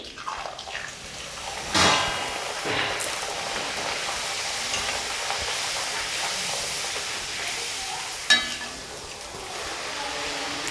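Poori deep-frying in hot oil gives a steady, close bubbling sizzle throughout, broken by a couple of brief louder splashes and clatters.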